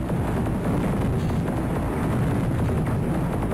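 Bomb blasts in the arcade shooter Raiden Fighters 2 (2000) form a dense, continuous, loud rumbling roar that fills the whole stretch without a break.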